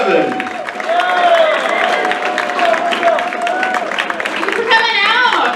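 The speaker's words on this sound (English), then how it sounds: "Keep that thunderous round of applause going for my friend Jane Bevan." A comedy club audience keeps up loud, steady applause and cheering for comedian Jane Bevan as she takes the stage, with clapping and crowd voices blending into one continuous roar.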